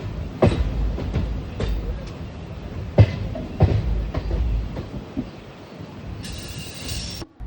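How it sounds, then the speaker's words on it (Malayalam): A train at Shoranur railway station platform gives a steady rumble with periodic wheel clacks and thumps. A brief electronic tone sounds near the end. "ഇതാണ് ഷൊർണൂർ റെയിൽവേ സ്റ്റേഷന്."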